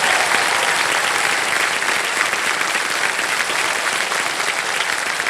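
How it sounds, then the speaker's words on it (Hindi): A TV quiz show studio audience breaks into loud, sustained applause for a contestant, a thick continuous roar of clapping that holds steady from start to finish with no talk above it. "जोरदार तालियां बज जाए इनके लिए।"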